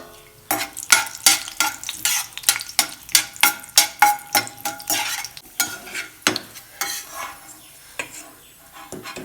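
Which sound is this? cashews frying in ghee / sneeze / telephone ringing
cashews frying in ghee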